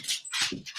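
A dog indoors, part of a dog fight in a house, gives a few short, close, high-pitched whimpering yelps in quick succession with no talk over them.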